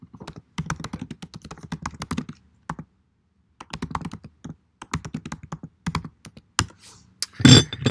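Fingers type on a computer keyboard in quick bursts of close, crisp key clicks, separated by short pauses, ending in a louder cluster of taps.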